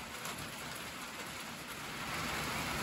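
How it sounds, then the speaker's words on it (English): Light rain falling steadily outside a mobile home under renovation, a soft, even wash of drops that stays consistent and grows slightly louder near the end, with no voices. "Fortunately, today it's just a light rain."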